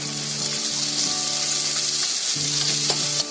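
Whole spices such as star anise, cloves, cinnamon and cumin hit frying onions in hot oil, giving a loud, steady sizzle with a low humming tone beneath and a couple of faint clicks.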